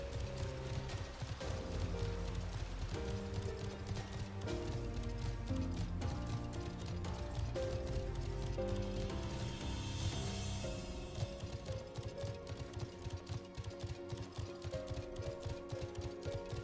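Mount hoofbeats from Final Fantasy XIV clip-clop in a steady gallop under a dense layer of game music, the hooves muffled within the continuous soundtrack.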